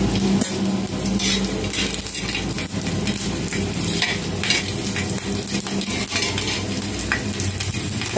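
Vegetables fry in hot oil on a pan, giving a loud, continuous sizzle and crackle with occasional stirring scrapes and no talking.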